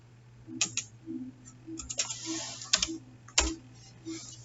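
Someone types an OTP on a computer keyboard, giving a handful of quick, close clicking keystrokes in small irregular bursts over a faint steady background hum, with no talking.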